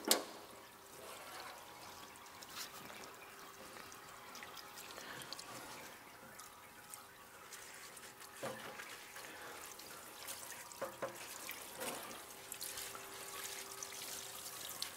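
Water runs in a sink while a dirt bike air filter is rinsed with detergent, a faint steady trickle and splash with scattered drips and sloshing bursts throughout.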